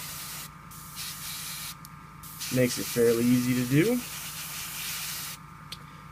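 An airbrush sprays paint onto a miniature figure held on sticky clay, giving a steady close hiss throughout while someone talks over it partway.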